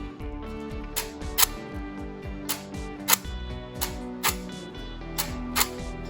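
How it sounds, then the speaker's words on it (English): A Kodak Instamatic camera's clockwork film advance whirs continuously, punctuated by sharp mechanical clicks of the shutter firing in quick succession, close and steady. "that sound you're going to hear is the film advancing"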